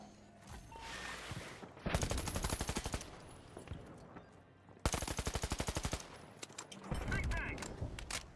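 Automatic gunfire in the online shooter The Finals rattles in rapid bursts of shots, loud and close, with other game sounds and some talk between bursts.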